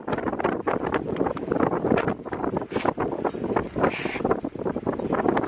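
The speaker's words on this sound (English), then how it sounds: "The wind's hitting us from all directions." Strong gusting wind buffeting a microphone outdoors beside a small camping stove and pan, a rough continuous roar with uneven surges, close and loud.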